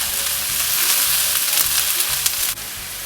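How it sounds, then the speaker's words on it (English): Vidalia onions and chopped garlic hit hot oil and fry with a bright, steady sizzle, stirred once or twice with a soft scrape, close up and with no talking. "I'm gonna add Vidalia onions and some chopped garlic into the oil."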